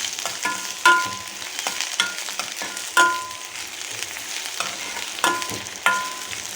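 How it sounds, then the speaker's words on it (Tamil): Okra being sautéed in a pan, a continuous close sizzle broken by repeated scraping strokes of a spoon every second or so, no speech. "வெண்டைக்காவை நல்லா வதக்கிக்கோங்க"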